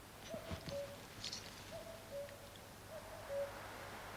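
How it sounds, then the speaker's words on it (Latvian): Owl hooting in a forest of pines, spruces, birches and alders, three soft, evenly spaced hoots, each a short rising note followed by a longer one, fairly faint over a steady background hiss. "pūce"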